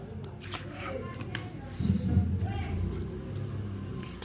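Tarot cards shuffled and drawn by hand, soft papery riffles and flicks running under a continuous speaking voice, with a slightly fuller burst of card handling midway.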